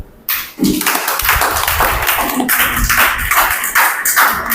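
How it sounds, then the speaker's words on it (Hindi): An audience claps loudly and vigorously for Ayurveda practitioners, a sudden burst of many close, sharp hand claps that swells and stays strong, with no talking. "अपने लिए जोरदार ताली बजाएं"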